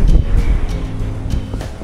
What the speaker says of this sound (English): Is it just waves?